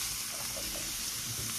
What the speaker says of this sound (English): I'm just going to let those onions and peppers cook and flavor that pot.